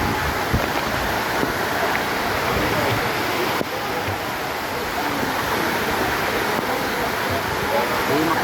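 Water plunges from a height at Daranak Falls, a loud, steady broadband roar filling the scene, close and continuous with wind buffeting.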